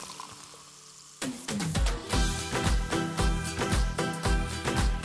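Tonic water pours into gin, a bright splashing, fizzing rush that starts abruptly after a quiet moment and continues with bubbly crackle, close and fairly loud.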